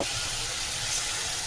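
Water poured into a hot pan of chicken gravy with pavakka (bitter gourd) thokku sets off a steady, close hissing sizzle that runs unbroken for the whole moment.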